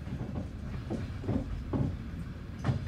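A passenger train rolls along the Trans-Siberian Railway in Russia, its wheels knocking over the rail joints in a steady clickety-clack rhythm beneath a low, continuous rumble, heard from inside a carriage.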